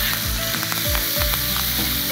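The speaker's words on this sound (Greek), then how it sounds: "Είναι αυτό το τσιτσίρισμα που κάνει το βούτυρο όταν ψήνεται και όταν καίγεται" Butter sizzles and spatters loudly in a pan while being spooned over a tomahawk steak, a steady close frying hiss with faint scraping strokes and no talking.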